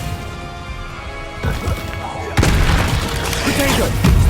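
Expelliarmus disarming spell fired in Hogwarts Legacy: a rumbling charge builds, then a sharp, loud impact bursts out and keeps booming with crashing hits to the end.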